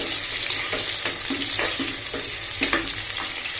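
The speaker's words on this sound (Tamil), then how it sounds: "நல்லா வெங்காயம் ஃப்ரை ஆகட்டுங்க, ட்ரை ஃப்ரை ஆகட்டுங்க." Onions dry-frying in a pan give a steady close sizzle, broken by regular soft scrapes of a spoon turning them about every half second, with no talking.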